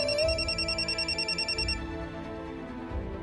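A phone rings with an incoming call in a Marathi TV serial scene, a warbling electronic ringtone pulsing rapidly for under two seconds before stopping, moderately quiet over a soft background hum.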